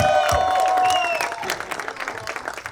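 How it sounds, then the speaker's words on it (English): A crowd at a supercar gathering claps and cheers for the GTR Club of South Florida, with scattered hands, a few whoops and whistles rising at the start, then loose clapping thinning out. "let's also give a hand of applause to the GTR Club of South Florida"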